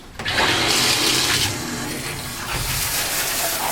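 A strong stream of water gushes and splashes in a bathtub during a rinse, loud and close for a few seconds, then easing slightly and continuing.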